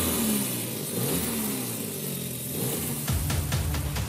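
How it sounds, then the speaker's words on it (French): A 225-horsepower turbocharged inline four-cylinder engine in an Audi TT revs up and down in a workshop, the loud rising and falling engine note heard close, ending in a deep steady roar. "écouter ce 4 cylindres en ligne turbo-compressé de 225 chevaux"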